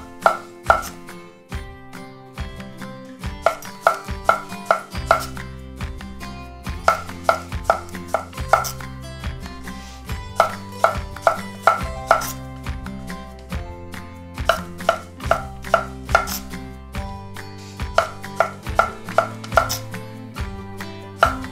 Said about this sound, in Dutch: En dan met een scherp mes de halve maantjes.